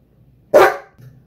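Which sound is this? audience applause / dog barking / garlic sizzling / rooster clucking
dog barking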